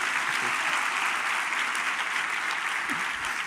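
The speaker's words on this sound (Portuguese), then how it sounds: "Se é para Jesus, você pode aplaudir com vontade" Congregation applauding during a church sermon, a dense steady wash of many hands clapping at moderate volume that runs the whole time, with faint voices underneath.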